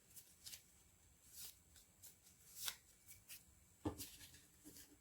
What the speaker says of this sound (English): You then need to shuffle each pack of cards.